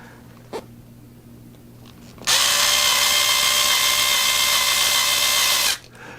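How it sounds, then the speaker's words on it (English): A power drill driving screws into metal whirs steadily and loudly for about three seconds after a faint click, then cuts off abruptly. "With these, I can use my drill."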